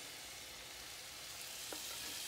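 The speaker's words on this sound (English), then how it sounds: "So now we're gonna take our sauce that's been sitting and cooling, and we're gonna spoon it right over it. And you can hear it sizzle" Hot syrup spooned over freshly baked baklava gives a soft, steady sizzle and crackle, faint and close, with a small clink near the end.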